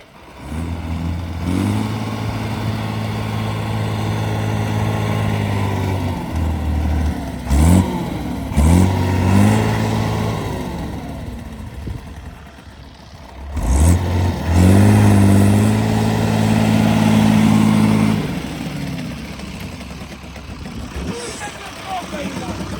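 A tractor engine works during plowing, roaring and revving hard and sagging abruptly each time the throttle is released, with the pitch climbing and falling over several cycles.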